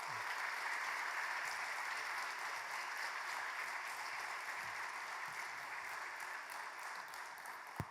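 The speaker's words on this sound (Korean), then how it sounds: "우리 큰 박수로 우리 선교사님 맞았으면 좋겠습니다" A church congregation at a Wednesday prayer service gives sustained, steady applause to welcome a missionary, a broad wash of many hands from a distance that slowly fades over eight seconds.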